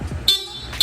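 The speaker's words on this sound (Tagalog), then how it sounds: "Sir, busina naman, stock horn." The stock horn of a Honda ADV160 scooter gives two short, sharp honks in quick succession, close and loud, over a low idle-like hum.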